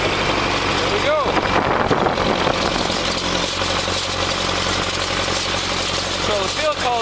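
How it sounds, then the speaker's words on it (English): A tractor engine labours steadily while pulling a lowered field cultivator through soil mixing in fertilizer, a loud continuous mechanical drone with rattling vibration, and a voice talks over it. "So the field cultivator is mixing in all of the fertilizer that we put on earlier today."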